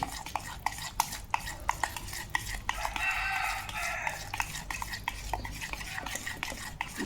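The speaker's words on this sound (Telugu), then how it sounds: "బాగా మిక్స్ చేసుకోవాలి. నీట్గా ఉండలు లేకుండా కలుపుకోవాలండి." Maida cake batter stirred in a bowl by hand, a rapid run of close, rhythmic scraping and tapping strokes that keeps going throughout, with a brief brighter clatter near the middle; nobody speaks.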